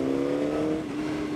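A Honda CBR600RR motorcycle engine revs in a brief, loud, close burst, a steady buzzing tone that eases off slightly, with no talk.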